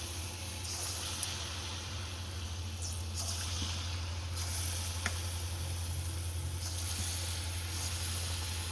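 Palm fruit fritters (taler bora) deep-frying in hot oil over a high flame, a continuous close sizzle and bubbling with occasional soft clinks as they are turned, under a low steady hum.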